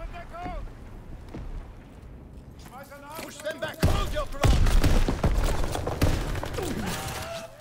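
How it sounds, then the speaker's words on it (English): Shotgun blasts in a video game, short-range, come as a dense series of loud bursts in the second half, with voices talking beneath and amid game noise. "Wow, the shotgun has a range of nothing."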